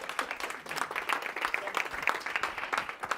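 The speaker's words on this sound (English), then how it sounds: "And the crowd goes wild." A live audience at a marketing masterclass applauds as the presenter Timothy Schmidt takes the stage, with steady, dense clapping held at an even level throughout.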